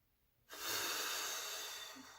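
A deep, long inhalation that starts abruptly and stays steady and close for nearly two seconds, breathy and airy with no talk, taken during a relaxation exercise.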